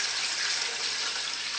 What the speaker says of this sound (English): how much water should we put it in this pot